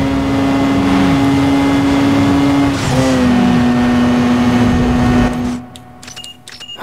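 A car engine in Need for Speed: Underground 2 on PS2 holds a steady loud drone, swelling with a rising rev midway before it drops away abruptly near the end.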